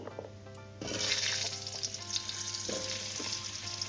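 Potatoes, radish and other hard vegetables drop into hot tempering in a pan for a spinach and bori dish, setting off a sudden loud sizzle after a quieter opening, with a few spatula knocks and no talking.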